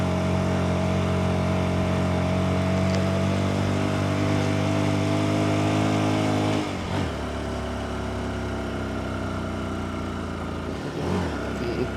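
Vehicle engine labouring up a very steep slope in low gear on the road to Keokradong, a loud close drone that holds steady, then changes pitch with gear shifts.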